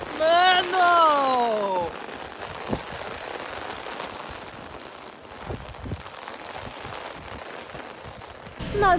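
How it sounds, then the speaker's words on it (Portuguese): Heavy rain pours down steadily in Paraty, Brazil, with a few sharp taps and a brief tonal whistle at the start; no clear talking over it. "começou a chover muito forte"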